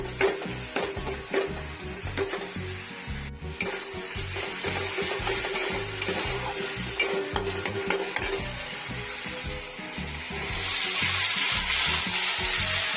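Banana stem and potato frying with spices in a pan for a vegetarian curry, with steady rhythmic stirring scrapes over a soft continuous sizzle, close up and without speech.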